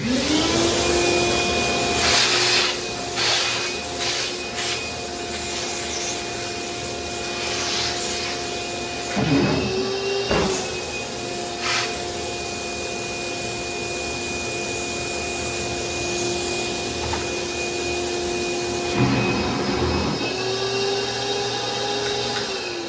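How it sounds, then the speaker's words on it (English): A vacuum cleaner drones steadily throughout with a constant whine, sucking up drill shavings from a car engine head, while brief scraping and rubbing noises come and go on top of it. "now you want to use a vacuum to help get these additional shavings in a drill"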